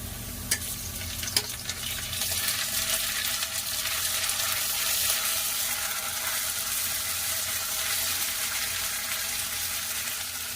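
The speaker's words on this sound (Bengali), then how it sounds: "জিরেটাকে তেলে ভালোভাবে নেড়ে নেবো" Steady, close sizzling of cumin paste frying in hot oil, a bright crackling hiss throughout with a couple of faint clinks near the start.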